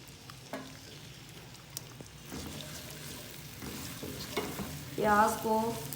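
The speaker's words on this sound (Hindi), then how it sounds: "प्याज की थोड़ी सी भुनाई करेंगे।" Chopped onions sizzle steadily in oil in a pan, with a brief scrape or stir near the start and a louder burst of frying toward the end.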